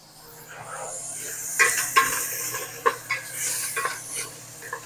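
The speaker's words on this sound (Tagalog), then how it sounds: "Haluin lang natin mga boss para hindi siya dumikit-dikit sa kalan." Onion for sinigang sa gabe is stirred in a cooking pot on the stove, with a spoon scraping and knocking the metal in several sharp strikes over a soft sizzle, close up and fairly loud.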